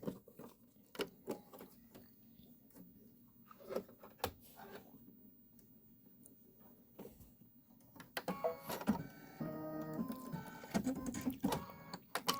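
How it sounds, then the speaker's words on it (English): A home embroidery machine stitches flowers in violet thread, a fast mechanical patter of needle strikes near the microphone that starts sparse and becomes dense and rhythmic in the second half, with no talking. "Go ahead and let it stitch those flowers."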